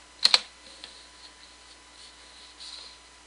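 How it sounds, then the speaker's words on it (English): Someone types on a computer keyboard while entering data, with two sharp key clicks right at the start, followed by a few fainter scattered taps in a quiet room. "you simply need to type the day."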